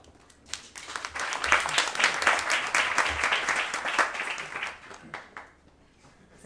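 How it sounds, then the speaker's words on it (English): An audience at a blockchain industry talk welcomes a guest speaker with applause. It builds to a dense, close burst of clapping, then thins to a few scattered claps near the end. "Please, round of applause."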